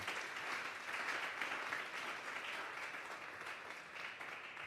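A church congregation at a Sunday afternoon service claps together, a soft, steady patter of many hands heard from a distance at low level for the whole stretch, with no voices over it.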